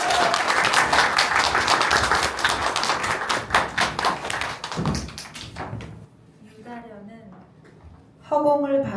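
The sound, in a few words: applause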